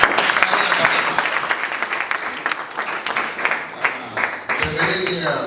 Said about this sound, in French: J'aimerais que nous puissions lui donner une petite acclamation